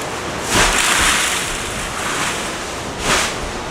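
Ocean waves washing ashore, a broad steady rush of surf with two louder swells breaking, mixed with wind noise on the microphone.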